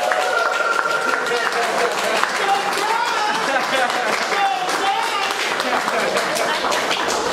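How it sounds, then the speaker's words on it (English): A crowd at an art-and-empathy event claps to welcome a featured artist, with the busy clapping mixed with cheers and voices rising over it. "Can everybody please clap your hands?"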